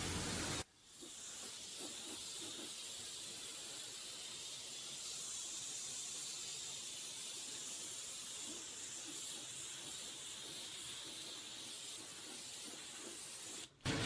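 Soft99 Rain Drop BAZOOKA sealant sprayed onto a car in a long continuous hiss that runs almost the whole time, with brief breaks at the very start and end, fairly soft and steady, no one speaking.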